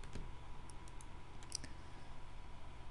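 A few light key presses for the Ctrl J shortcut on a computer keyboard, faint and close, scattered clicks over steady room hum.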